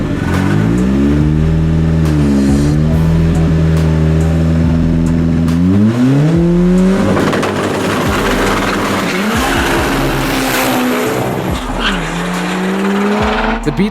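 Street race cars, including a Volkswagen Beetle and a Porsche, roar as their engines rev and climb through gears, with tires squealing and skidding, loud and close throughout.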